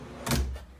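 A cooler slide-out on 18-inch, 100-pound drawer slides in a DIY square-drop teardrop camper gives a single short, close sliding thump with a quick rumbling run that fades within a second.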